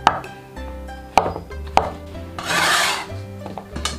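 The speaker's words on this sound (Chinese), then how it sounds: "准备一点新鲜香菇，洗干净后切成厚片" A knife slices fresh shiitake mushrooms into thick pieces on a board, giving a few sharp, close cuts spaced apart and then a longer scraping rasp, with no talking.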